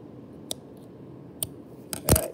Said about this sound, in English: So let's snip it.